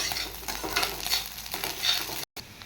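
Paneer pieces and ginger garlic paste frying in a pan, a dense continuous sizzle with stirring scrapes swelling and fading, close and loud, cut by a brief dropout near the end.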